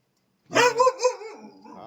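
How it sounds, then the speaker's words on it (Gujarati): A Doberman dog barks nearby in a quick burst of three loud, sharp barks, then falls silent. "આ જો આપણો ડોબરમેન ડોગ"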